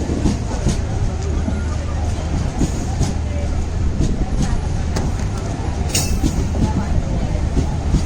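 The Netravati Express, a crowded passenger train on the Konkan Railway, rumbles along with steady loud roaring and rhythmic wheel clatter heard from inside the carriage, continuous throughout with no pauses.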